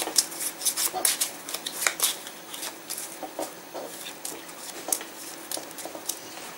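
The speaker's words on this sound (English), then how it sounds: "I'm going to very quickly shuffle these cards." Pandemic The Cure game cards being shuffled quickly by hand, a dense run of crisp riffling flutters and soft slaps, close and fairly quiet with a little background murmur.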